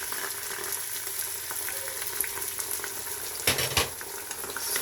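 Ground beef with ginger garlic paste sizzles steadily in an Instant Pot, a continuous close frying hiss with a brief louder scrape of stirring near the end, no voices.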